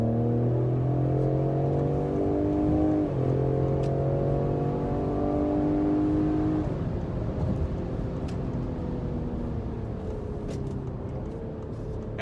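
A 2020 Ford Explorer ST with a 400 hp AWD engine accelerates hard, its tone climbing through two upshifts before settling into a steady drone, heard from inside without talk.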